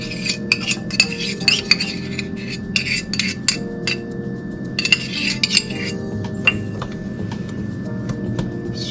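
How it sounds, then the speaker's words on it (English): A spoon stirs brown sugar and ketchup together in a container, with close, rhythmic clinks and scrapes against the sides and no voices. "Stir those up."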